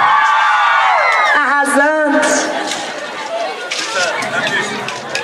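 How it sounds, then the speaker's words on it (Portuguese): Women in a crowd at a Black Consciousness Day 2016 celebration shout and whoop loudly, rising cries and cheers blending into excited chatter and hubbub. "As mulheres, dá um grito!"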